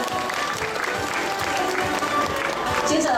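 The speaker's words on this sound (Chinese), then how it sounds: "再次给东方美人茶掌声鼓励" An audience at a Taoyuan Oriental Beauty tea awards event bursts into dense, sustained applause, a steady wash of clapping filling the room throughout.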